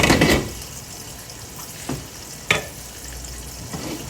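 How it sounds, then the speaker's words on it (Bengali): Onions frying and softening in a pan give a steady, close sizzle with a louder burst at the start and a few brief stirring scrapes. "পেঁয়াজটা ভালো করে একটু নরম হোক"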